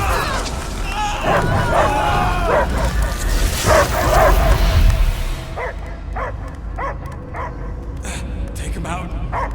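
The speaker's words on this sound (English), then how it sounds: "I hear only barking" A dog barks and yips repeatedly in the video game Guardians of the Galaxy, first under a busy wash of noise and voices, then more clearly in short, spaced bursts.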